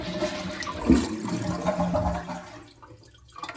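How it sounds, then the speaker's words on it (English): An American Standard Champion 4 toilet flushes with a loud rush of swirling water that gradually drains and fades to quieter trickling near the end. "flush your toilet to get some of the water out"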